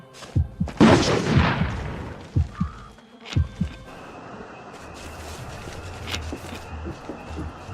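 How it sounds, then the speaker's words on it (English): Explosions from an air raid in the video game We Happy Few: several deep booms and thuds at irregular intervals over a low, rumbling background. "They're bombing us again!"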